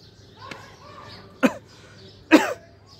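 Two sharp, close coughs about a second apart follow a faint throat sound, alone in an otherwise quiet room.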